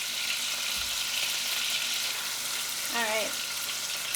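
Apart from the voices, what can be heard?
steak bites sizzling in butter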